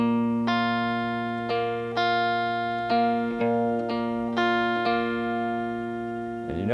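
Guitar picks a ringing arpeggiated riff from a song, individual notes struck in a regular pulse over sustained tones, close and clean with no talking.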